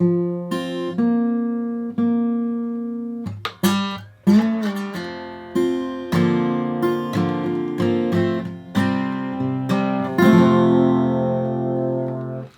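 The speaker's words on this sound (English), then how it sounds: "In the bridge, starting at measure 51, slide guitar 2 sounds like this for the first 4 measures." Slide guitar part from a song's bridge, a series of plucked, gliding notes with ringing sustain and clear attacks, played alone at moderate volume with no talking.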